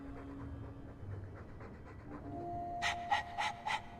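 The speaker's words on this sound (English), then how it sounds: "Well, pardon my dog for breathing." Dragon Age 2 dog panting: soft, rhythmic breaths under a quiet tonal background, then a few louder, distinct huffs near the end, with no one speaking.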